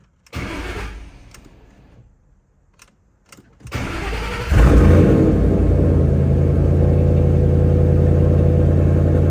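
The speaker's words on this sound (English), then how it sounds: "I cannot wait to hear this thing start up again" A 2011 Shelby Mustang cranks with a brief starter whir, stutters, then catches and fires into a loud, steady, deep rumbling idle that holds close and continuous to the end.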